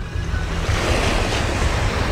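Waves wash continuously onto the beach shore at Pulau Merak, with ships anchored offshore, giving a loud, steady surf rush mixed with wind buffeting the microphone.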